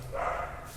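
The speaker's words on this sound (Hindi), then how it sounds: "कुत्ते बड़े भौंक रहे हैं बाहर में" Several dogs bark outdoors, faint and distant, a muffled burst of noise heard alone through a room with no talking.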